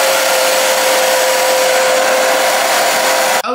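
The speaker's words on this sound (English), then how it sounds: "let me blow dry." A hair dryer blows close and loud on a long wig in a steady, unbroken whirring roar with a constant motor tone. It cuts out briefly at the very end.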